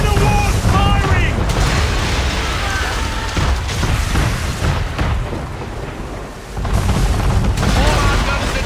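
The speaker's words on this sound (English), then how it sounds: "Man of war's firing!" Cannon fire from a man-of-war ship in the Assassin's Creed III video game, heavy repeated booms and rumbling blasts over a continuous din of battle, with voices shouting among them.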